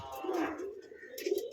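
Pigeons in a loft give a few soft, low cooing calls at close range, with brief chirpy bursts, with no other sound around them.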